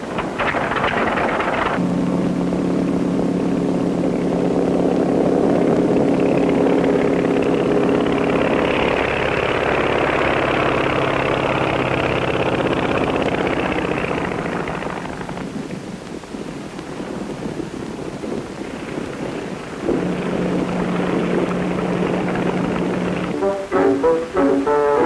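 A vintage propeller airplane engine runs steadily and loud for most of the span, a dense droning roar with a low tonal hum, easing off briefly before picking up again; no talking.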